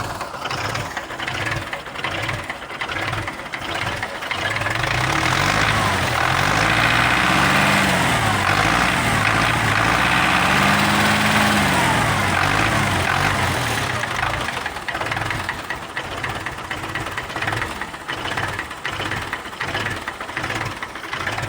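A Russian MTZ 50 tractor diesel engine runs close by with a half-working self-starter and a slightly low idle, giving a steady throbbing chug that rises in revs for a few seconds before settling back.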